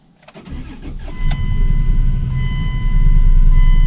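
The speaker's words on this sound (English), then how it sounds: "let's start it up." A car with a rough-running engine and warning lights on cranks briefly, fires up and settles into a loud, steady idle close by.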